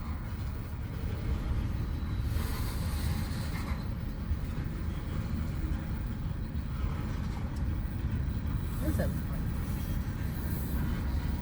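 A freight train rolls past at a trackside crossing with a steady, low continuous rumble and faint wheel and squeal noises, moderately close, while a person talks briefly over it.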